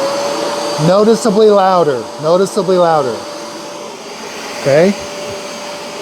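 A Bissell Pro Heat portable carpet cleaner runs with a steady, loud motor drone throughout, while a voice talks over it in several bursts.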